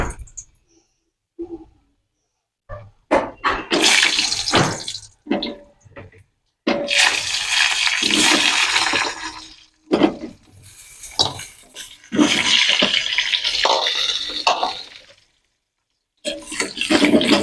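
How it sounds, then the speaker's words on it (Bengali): Potato pieces going into hot oil in a home kitchen pan give loud bursts of hissing sizzle that come in waves with short pauses between, close and with no talk. "এবারে আলুটা ভেজে নেবো। তেল গরম হয়ে গেছে,"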